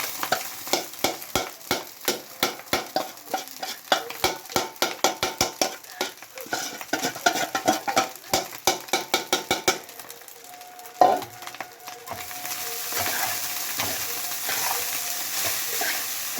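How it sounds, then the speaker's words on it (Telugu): Cooked rice is stirred into a pan of egg seasoning with garlic and cumin, a spoon scraping and tapping the pan in a rapid steady rhythm over a soft sizzle, then a brief clatter and louder frying hiss near the end. "అన్నం వేసుకొని కలుపుకోవాలి"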